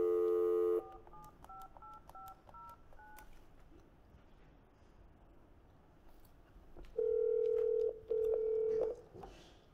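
Touch-tone keypad dialing for a live phone call on a morning show: a long opening tone, then a quick run of short beeps, and later two sustained tones in a row, clear and close, with no voices.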